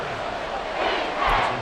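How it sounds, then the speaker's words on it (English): Stadium crowd noise in the football video game Madden NFL 24, a dense roar of many voices that builds louder toward the end, steady and without a break. "This crowd trying to force a false start here."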